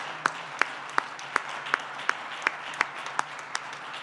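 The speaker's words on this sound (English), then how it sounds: "Applause for all of our winners." Applause for the winners at the 2019 Visionary Leadership Awards ceremony, a soft crowd clapping bed with one distinct clapper striking sharply in a steady beat about three times a second, moderately quiet.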